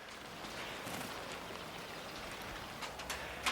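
Rain falls outdoors at a farmhouse with a garden, a steady soft hiss of drops that stays even and fairly quiet throughout.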